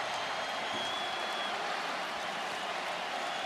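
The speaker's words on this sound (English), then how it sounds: "this crowd in Athens is fired up and smelling blood" A packed American football stadium crowd in Athens roars steadily during a Georgia vs Clemson game, a dense, continuous wash of cheering and clapping that stays at an even level throughout.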